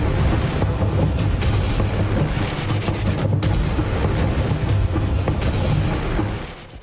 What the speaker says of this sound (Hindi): तोपों से गोलों की बारिश हो रही है।